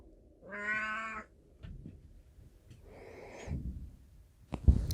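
A house cat gives one clear, drawn-out meow close by, followed by soft snorts and breathing noises and a faint second vocal burst in an otherwise quiet room.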